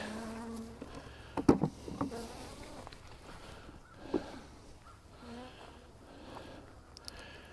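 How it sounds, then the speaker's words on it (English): Agitated honey bees from a hive buzz close by in short, irregular bursts, with a few louder passes darting near amid a quieter background hum. "One or two ticked off bees."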